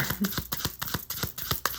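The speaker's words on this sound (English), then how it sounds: "This is such a big deck, it gets hard to shuffle." Rapid rhythmic riffling of a big deck of cards being shuffled, a steady run of crisp flicks close by with no talking.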